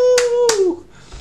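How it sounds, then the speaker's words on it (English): Two sharp hand claps close by in quick succession, with a voice sounding beneath them. "I'm applauding myself"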